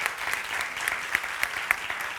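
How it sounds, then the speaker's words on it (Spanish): An audience at a talk on menopause and insomnia applauds steadily, a moderately loud patter of many hands with a few sharper individual claps standing out. "Os voy a pedir un aplauso para ellas."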